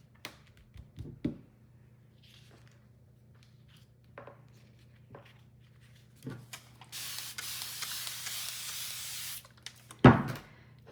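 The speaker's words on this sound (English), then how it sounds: "I'm just misting the fabric first, just so that it's not so thirsty." Spray bottle misting fabric during a decoupage project, a soft hissing burst of a few seconds among quiet taps and handling noises, with a louder knock just after.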